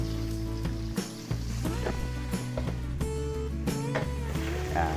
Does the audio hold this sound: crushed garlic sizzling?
yes